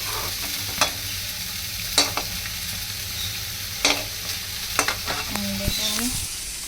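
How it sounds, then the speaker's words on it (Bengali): Eggplant fritters (begun bhaja) frying in oil, a continuous soft sizzle broken by sharp stirring clicks and utensil knocks at irregular intervals, close-up and fairly quiet, no voices. "আর একদিকে আমার এখানে বেগুনি হচ্ছে।"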